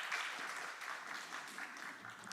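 A church congregation claps during a Korean youth worship service on mission Sunday, a dense, even wash of applause heard fairly softly for a couple of seconds with no voices over it.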